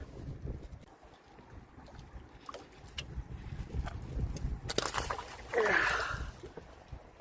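Strong wind blowing steadily across a reservoir in Andong during fishing, a continuous rushing roar that swells and buffets the microphone, with a louder gust near the end.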